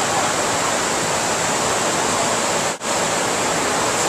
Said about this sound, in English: It's quite noisy, the water.